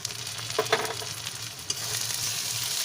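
Ginger, garlic, green chilli and small tomatoes fry in hot oil for a fish roe kofta curry masala, giving a steady close sizzle with a few soft utensil knocks.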